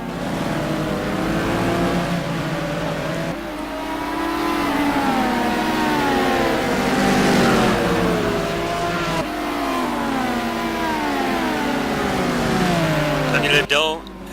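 Several race car engines in a simGT sim racing endurance event at Phakisa rev and climb through the gears at the race start, a layered, sustained engine drone with a commentator talking over it.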